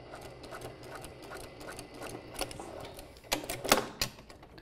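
Sewing machine backstitching a seam on a kimono sleeve garment, a quiet rapid mechanical ticking and whirring with short stitching bursts that grow louder toward the end, heard close up without voices.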